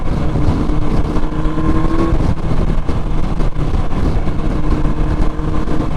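Loud, steady roar of road traffic and engine noise, with wind rushing as cars travel past at highway speed, heard from a 2001 Yamaha R1 motorcycle.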